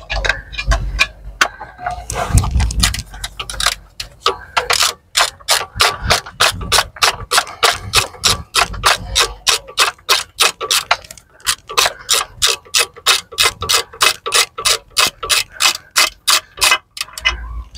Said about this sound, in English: I'm just going to try and undo this now because the space is really tight